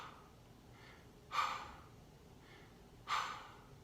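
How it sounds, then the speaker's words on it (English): Two slow, deep, relaxed breaths, each a soft airy rush close to the microphone, separated by quiet pauses. "the first gear is slow, relaxed, deep breathing"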